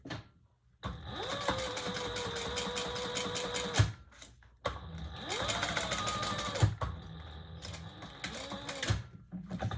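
A sewing machine stitching a leather wallet runs in two long continuous bursts of steady mechanical whirring and needle clatter, separated by a brief pause, fairly close and without speech.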